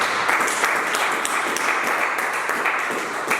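A church congregation applauds and claps together in a dense, continuous, fairly loud burst that holds steady for a few seconds, with no voices over it.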